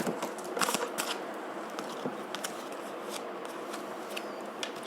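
Tarot cards are shuffled and drawn in quiet, close, papery flicks and taps, with a soft continuous rustle and a few sharper snaps at an even volume, and nobody speaking.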